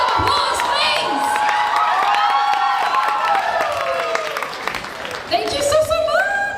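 A cosplay competition crowd at a New Zealand convention bursts into loud, sustained cheering, whooping and clapping, with high shouts rising above a dense wall of applause that swells again near the end.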